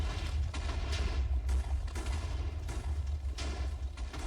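TNT explodes in Minecraft: continuous rumbling blasts with repeated heavy booms, loud and dense, a steady low roar punctuated by sharper bursts every second or so.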